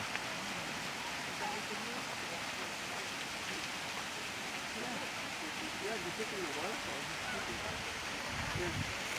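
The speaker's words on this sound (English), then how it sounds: "Nice waterfall." Steady broadband water rush of a waterfall in Japan, a continuous loud hiss filling the whole stretch, with faint voices murmuring underneath.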